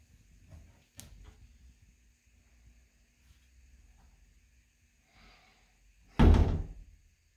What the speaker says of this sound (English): And start to close the door.